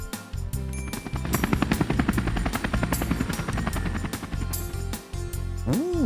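A helicopter's rotor thumps in a fast, steady rhythm with engine whine, close and loud throughout, ending with a rising siren-like tone.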